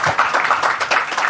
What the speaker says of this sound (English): A huge round of applause for them, please.